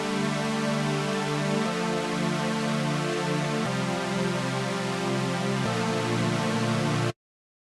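A raw synth pad with no effects sustains rich harmonic chords, shifting to a new chord about every two seconds before cutting off sharply into silence.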